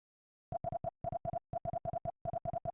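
A phone ringing tone from the video game Terranigma: short electronic beeps repeat in quick bursts of three or four, separated by brief pauses, clean and moderately loud.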